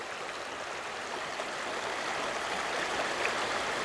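A river runs past cliffs at a bend, a steady, continuous rush of flowing water that stays even and fairly near throughout with no voices.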